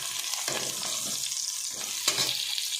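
Bitter gourd frying in a pan, a steady close sizzle with a few brief scraping stirs or turns, no voices.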